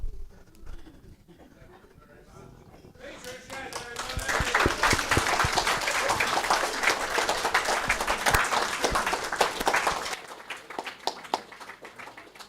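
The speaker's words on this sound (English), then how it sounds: "Round of applause, thank you." Applause for a mediumship demonstration at a spirit seekers weekend rises after quiet talk into a dense burst of crowd clapping with sharp individual claps, then cuts off abruptly into lighter sound.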